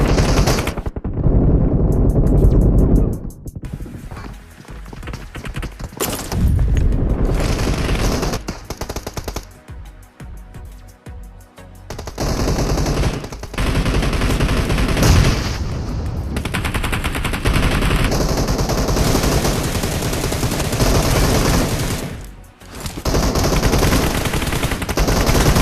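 Rapid bursts of automatic gunfire and single shots crackle almost nonstop through a BGMI battle royale match on a mobile phone, loud and close, with a brief lull partway and rumbling blasts mixed in.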